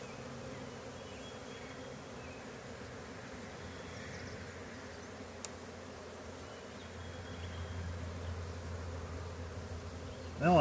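Honey bees humming softly and steadily as a swarm is installed into a hive, a faint continuous drone that thickens slightly toward the end, no voices.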